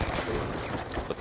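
Rapid gunfire in Call of Duty: Black Ops 2 during a Team Deathmatch match, dense overlapping bursts of shots sounding continuously and fairly loud for the whole moment, with no talk.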